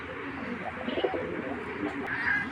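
Pakistani Giribaz pigeons of the Palla line, kept for sale, coo softly in a few low murmuring phrases close by, with a faint brighter chirp near the end and no talk.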